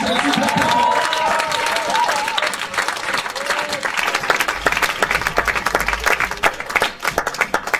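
A church congregation claps and cheers in praise, dense sustained applause with crowd voices throughout, loud and close, with a few shouts rising over it.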